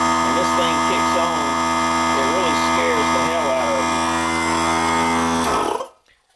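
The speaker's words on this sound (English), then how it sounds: "this is a pretty loud air compressor" Loud shop air compressor running steadily with a heavy motor hum and a droning mechanical whine, close and constant, then abruptly cutting off near the end; no talk is heard over it.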